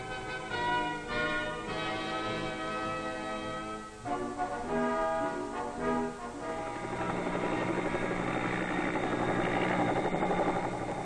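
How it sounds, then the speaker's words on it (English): Loud, steady low rotor thump of a large twin-rotor US Army Chinook helicopter in 1968 Vietnam War footage, sustained throughout with a droning engine whine and a brief dip in the middle. "It's the giant United States Army Chinook helicopter, and the downdraft from the huge rotors nearly blows them off"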